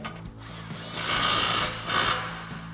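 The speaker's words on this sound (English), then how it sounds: "Grab our impact and 21mm socket and tighten that down." Impact wrench with a 21mm socket tightening a tie rod nut on a RAM 1500 during a suspension lift install, giving a steady loud whirring rattle with two surging bursts of hammering, no talk.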